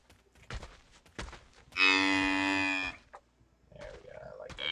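A cave buffalo in a video game moos on its migration path, one long, loud, tonal low bellow lasting about a second, with a person talking before and after it.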